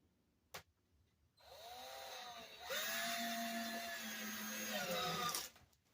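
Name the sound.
driving wood screws into wooden frame with drill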